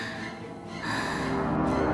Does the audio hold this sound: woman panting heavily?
yes